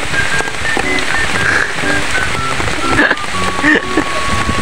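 Steady rain pours outdoors in Bato, Camarines Sur, a dense, even hiss of drops on surfaces filling the whole stretch, with people talking over it now and then.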